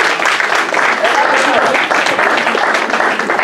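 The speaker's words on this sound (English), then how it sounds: "Give our volunteers a round of applause." A conference crowd in Trenton, New Jersey, claps loudly and continuously for volunteers, a dense, even roar of applause throughout with some voices mixed in.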